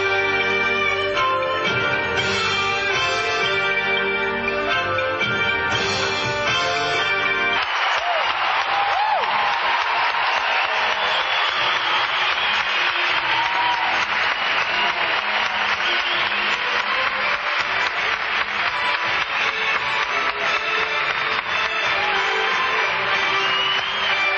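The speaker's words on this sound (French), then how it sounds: "Les artistes offrent maintenant leur dernière pirouette au public qui les applaudit à tout rompre" A circus audience gives sustained applause at the close of a Cirque du Soleil show, a dense wash of clapping that swells in after a stretch of music and holds steady, loud and continuous to the end.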